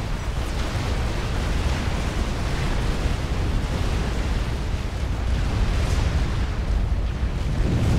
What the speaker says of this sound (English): Sui's arty is now firing, but there are now two fatties to stop